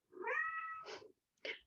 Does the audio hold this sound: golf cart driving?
no